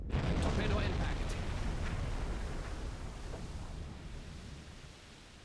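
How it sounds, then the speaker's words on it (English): A torpedo strikes a ship in the naval submarine game Silent Hunter 5, a loud deep rumbling blast that fills the clip at once and then slowly decays into a fading low roar. "Torpedo impact."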